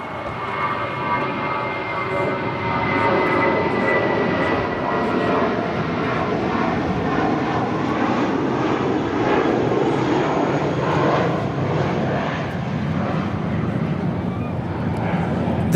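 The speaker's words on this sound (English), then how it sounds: "This is Spirit Airlines 472 taking off to Memphis, Tennessee on an A320" A Spirit Airlines Airbus A320 jet takes off at LAX, bound for Memphis, with a loud, steady engine roar and layered tonal whine that holds throughout, a little quieter in the first two seconds.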